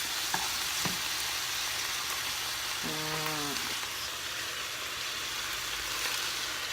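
Frying sizzle of noodles added to a hot pan of soy sauce for chicken pad thai, a steady crackling hiss throughout with a brief tonal squeak midway and a few soft clatters near the start, no talking.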